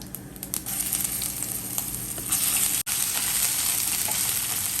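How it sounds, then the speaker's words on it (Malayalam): Ginger and garlic frying in hot oil give off a loud, continuous close-up sizzle and crackle, with one brief cut near the middle. "ആദ്യം ജിഞ്ചർ ഗാർലിക്ക് ഇട്ട് കൊടുക്കാം"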